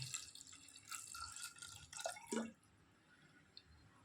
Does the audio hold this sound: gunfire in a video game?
no